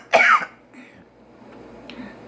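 A single short, sharp cough, close and loud, followed by quiet room noise and faint stirring.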